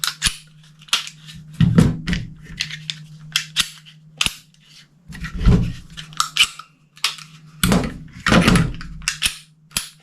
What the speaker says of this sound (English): Smack our guns around on the table.